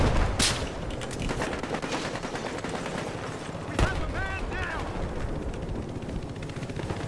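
Gunfire in the video game Battlefield Hardline multiplayer on PC, dense rapid shots and sharp loud cracks over constant battle noise, with brief voice sounds mid-clip.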